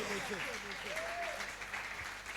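A church seminar congregation applauding, a short burst of clapping heard from a distance beneath tonal, sung-sounding voices in the room, fading toward the end.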